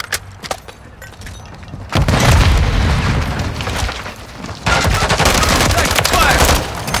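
Rapid automatic gunfire and heavy booming explosions from a Call of Duty: Modern Warfare III Domination match in Highrise, New York City, loud and dense in sustained bursts with a brief lull, voices calling out in between.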